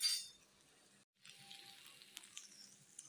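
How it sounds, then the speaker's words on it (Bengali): Chicken curry spices with potatoes sizzle in a pan as small splashes of hot water go in, a brief loud hiss at the start, a short gap, then steady quieter frying with light stirring clinks. "আমি এবার অল্প অল্প গরম জল দিয়ে মশলাটা ভালোভাবে কষে দিচ্ছি।"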